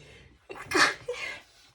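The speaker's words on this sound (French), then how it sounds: "Je crois que je vais éternuer, ça fait partie du direct" A single close sneeze: a short breathy intake, then a sharp loud burst and a trailing exhale, with nothing else around it.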